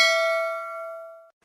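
A bright notification bell dings once, clear and close, its metallic ring holding steady before cutting off abruptly, with nothing else heard.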